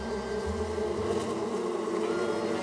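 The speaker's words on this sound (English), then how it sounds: "Looks like a great place to get those bees for Compton." Bees in the video game Psychonauts 2 give a dense, steady swarm buzz that runs loud and unbroken through the whole clip, with no talking.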